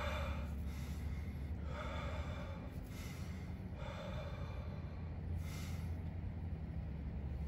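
Rhythmic breathing during a Korean tai chi (Taegukwon) session, several soft exhalations recurring every second or so over a steady low background hum, with no talking.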